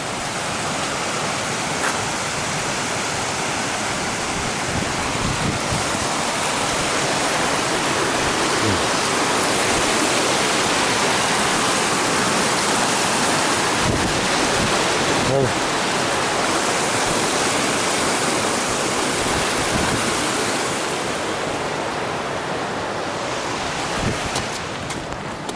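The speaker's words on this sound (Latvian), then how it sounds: "Un atkal upe" A mountain river rushing continuously, a dense, steady roar of flowing water heard close by with some wind buffeting the microphone.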